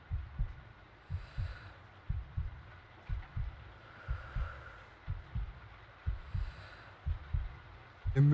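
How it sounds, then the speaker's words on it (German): A heartbeat inside a horror video game throbs in steady low double thumps, lub-dub pairs repeating about once a second, over a faint hum with no talk. "Wir müssen unseren Herzschlag senken."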